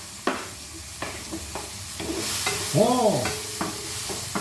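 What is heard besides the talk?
stir-frying pakbet vegetables with tomato and string beans in a pan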